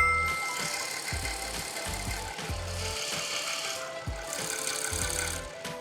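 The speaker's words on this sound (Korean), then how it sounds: "엔진 사운드 먼저 한번 들려드릴게요" A 2018 Lincoln Continental engine idles steadily with a low, even rhythmic chug and faint mechanical rattle, slightly reverberant in an underground parking garage.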